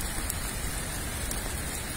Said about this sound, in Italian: La pioggia continua a cadere incessantemente